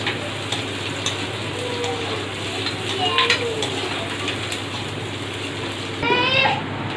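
Onions and garlic frying in a pan, a continuous close sizzle with occasional stirring scrapes, plus a brief brighter squeaky burst near the end; no speech.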